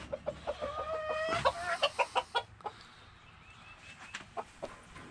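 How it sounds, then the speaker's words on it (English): Partridge Wyandotte bantam chickens clucking in a yard, a run of close, rhythmic clucks and squawks with a louder burst midway, then softer scattered clucks and faint chirps. "These are my Partridge Wyandottes."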